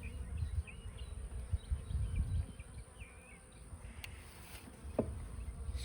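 Worker honeybees buzz at an open hive during an inspection, a steady low hum of many insects close by with a few sharper individual buzzes and a brief click near the end.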